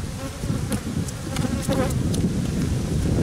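Buckfast hybrid honeybees buzzing around their hives, a steady close swarm hum with individual bees zipping past, no voices.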